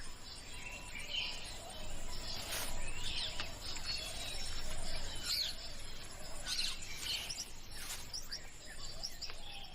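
Birds calling in Sri Lanka's rainforest, scattered faint chirps and short high calls over a steady hum of insects, distant and quiet, with no voices.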